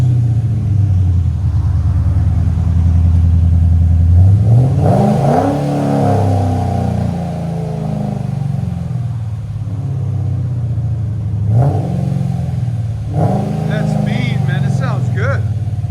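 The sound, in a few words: supercharged car engine revving with headers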